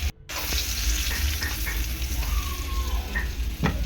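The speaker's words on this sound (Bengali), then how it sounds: "আলুটাকে একটু সুন্দর করে ভেজে নেব" Potatoes frying in oil in a pan for a chicken dish, giving a steady broadband sizzle throughout with a few brief clinks of utensils, close and fairly loud, with no talking.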